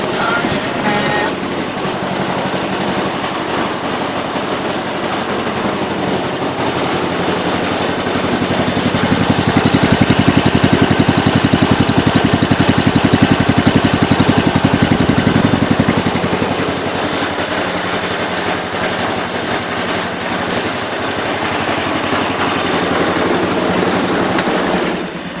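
Kohler K241 single-cylinder engine running on a John Deere 210 garden tractor, a loud, steady close-up chugging drone that swells louder in the middle before settling back to a constant run.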